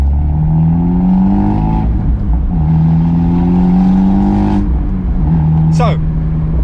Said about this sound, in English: we're going to do a little bit of driving now, kind of at what you would normally drive at in terms of kind of low RPM, just so you can have a listen